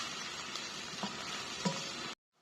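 Onions fry in a pan for a mushroom curry, a steady close sizzle with a couple of soft stirring knocks, then the sound cuts off abruptly near the end.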